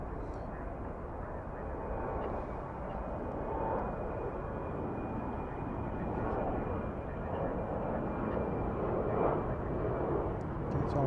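An airplane passes at DFW Airport near runway 36 Left, a broad steady jet roar that holds level for about ten seconds without a break.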